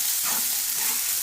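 Prawns and spinach sizzle in a hot pan while being stirred, a steady loud fry with soft scraping stirs through the short stretch and no voices.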